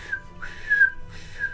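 A person whistles to imitate a signal whistle, three rising and sliding tones in a row, fairly loud and alone.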